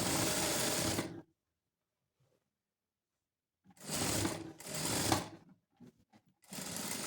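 Sewing machine stitching a slit in cloth, loud steady whirring runs in three bursts separated by silent pauses, with a few brief stutters between the later runs.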